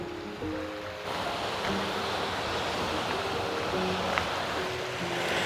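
Sea surf breaks along the Wakamatsu north coast of Kitakyushu facing the Hibiki Sea, a steady broadband wash of waves rolling in without pause, fairly soft and continuous with no talk.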